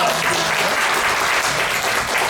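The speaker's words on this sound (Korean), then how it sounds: "여러분들 큰 박수로 모시도록 하겠습니다." Dense, steady applause from an audience welcoming a singing group onto the stage at a live event in Ansan, filling the whole stretch loudly and evenly.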